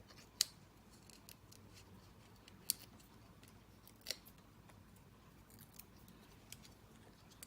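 Scissors cutting card stock for card making, a few sharp, isolated snips spaced a second or more apart over a quiet background, close and crisp.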